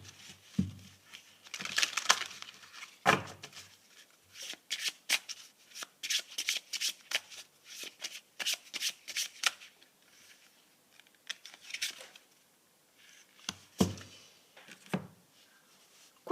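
Tarot and oracle cards are shuffled by hand in repeated bursts of quick crisp riffles and flicks with short pauses between, close and clear with no talking.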